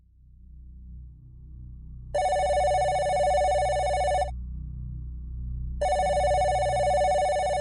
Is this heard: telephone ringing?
yes